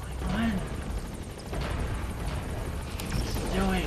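A helicopter touching down in the video game Metal Gear Solid V, a steady rotor roar with wind-like rumble filling the whole stretch, loud and close, with brief voice sounds over it.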